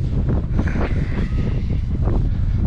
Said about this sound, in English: the wind's blowing in as you can feel it on the camera